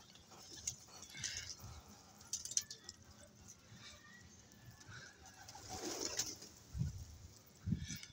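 Pigeons kept in a sheltered loft coo softly in low, intermittent murmurs, with faint talk and some background noise around them.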